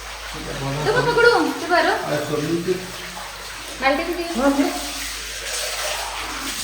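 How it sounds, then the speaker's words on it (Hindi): Water runs steadily from a motor-fed tap at a Hindu temple being washed down in the early evening, a continuous broadband rush with voices talking over it at moderate distance. "मोटर चालू थी तो डायरेक्ट नल से ही पानी आ रहा था।"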